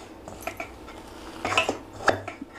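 Cabbage pakodi batter mixed by hand in a bowl: a few sharp, close clinks and taps of a utensil against the bowl, scattered irregularly across a short, otherwise quiet moment.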